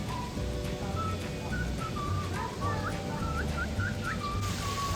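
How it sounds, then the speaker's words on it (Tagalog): A parrot at Manila Zoo gives a series of short, whistled chirps and rising calls, moderately near, over a low steady background hum. "Parrot."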